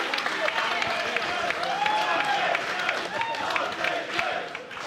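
A wrestling crowd in an arena roars and clamours continuously, a dense mix of shouting, cheering and scattered clapping, with a commentator's voice faintly audible under the noise.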